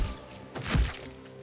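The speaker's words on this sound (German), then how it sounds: "Ich schieße einfach mal mit Pfeil und Bogen auf ihn." An arrow loosed from a bow strikes an enemy in Baldur's Gate 3, a single dull thunk with a brief crunching impact, moderately quiet against faint game ambience.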